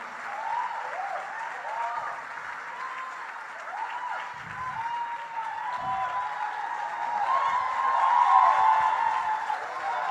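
A church congregation at a Baptist worship service applauds, a dense, continuous roar of clapping that holds steady and swells slightly louder toward the end, with faint cheering mixed in.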